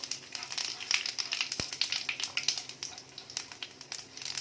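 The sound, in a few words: cinnamon and whole cumin frying in pan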